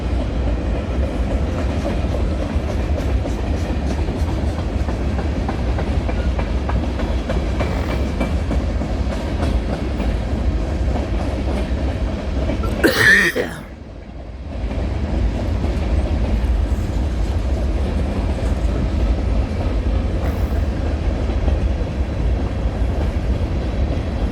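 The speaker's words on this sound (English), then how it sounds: "If this train has like 700 axles, it's got more than 100 cars." A long freight train of well over a hundred cars rolls past on the rails at night, a steady, loud rumble and clickety-clack that never lets up, with a brief whooshing gap partway through.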